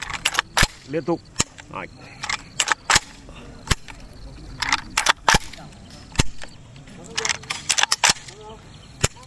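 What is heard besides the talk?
AK rifle gunshots at a shooting range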